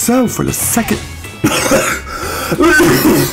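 A man coughs and clears his throat several times in short harsh bursts, close to the microphone, while he talks briefly between them.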